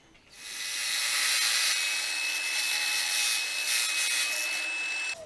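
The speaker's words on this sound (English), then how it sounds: "Just going to rough up the surface, make sure the glue's got something to bite into." Abrasive rubbing roughens the plastic surface of a Karcher wet and dry vacuum extender, a loud, steady, hissing scrape that starts abruptly and runs continuously for several seconds before stopping.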